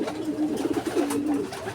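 A racing pigeon coos nearby at night, a low throaty rolling call repeated in a steady, close burrow of sound.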